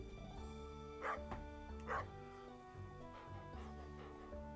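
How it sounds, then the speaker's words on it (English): In the Stardew Valley video game, a dog gives two short yips over looping background game music, fairly quiet and set within a continuous melodic soundtrack. "That's a cute dog."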